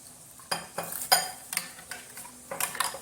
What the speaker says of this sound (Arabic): انا هنا حطيت بيضه اهي، اضربها كويس